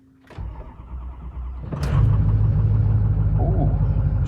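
A Ford 6.0 Powerstroke diesel engine cranks with a brief whirring starter, then catches and settles into a loud, steady low diesel rumble close by.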